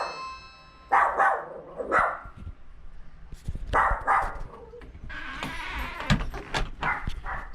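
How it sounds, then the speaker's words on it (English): Several dogs bark in short bursts, some sharp and some howling, at moderate distance with pauses between volleys and no talking. "My dogs are probably going to freak out"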